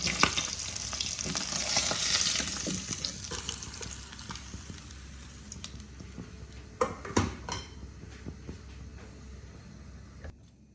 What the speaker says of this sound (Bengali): এবার তেলের মধ্যে আমি তেজপাতা ফোড়ন দিলাম। আর গোটা জিরে ফোড়নে দিলাম।